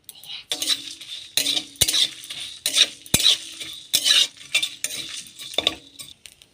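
Whole coriander, cumin, dried chillies and garam masala being dry-fried in a pan, with repeated scraping stirs of a spatula and metal clinks against the pan in an uneven rhythm, close and fairly quiet.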